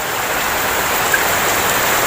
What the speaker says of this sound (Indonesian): di kandang saya itu suaranya bising, terdengar suara hujan